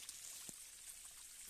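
Steady broadband rush of water from a waterfall, a lower fall on a mountain transversal trail, heard as a constant hiss with a faint brief knock partway through.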